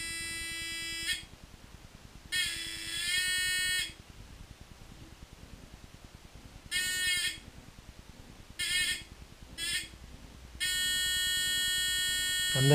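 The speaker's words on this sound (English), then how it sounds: "let's put a buzzer into the circuit" An electric buzzer wired into a light-dependent resistor circuit in place of a bulb, with a diode in parallel, sounds in repeated harmonic-rich bursts of uneven length, one long, then shorter stuttering pulses and a sustained final tone, close and clear with no talking.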